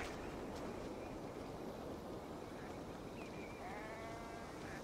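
A sheep bleats faintly in Assassin's Creed Valhalla, a couple of thin wavering calls rising over a dense, steady wash of outdoor ambience that stays loud throughout.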